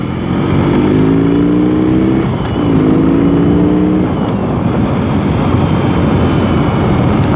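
A 2021 BMW R 18 cruiser motorcycle rides along with its engine droning loud and close, a steady low rumble with a short dip in the middle before it settles back to an even roar.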